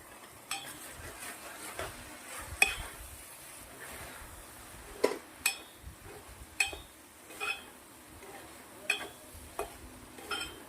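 Restaurant-style handi fried rice is stirred in a hot pan, a utensil clinking and scraping against the metal in irregular strikes over a faint sizzle, with no talk.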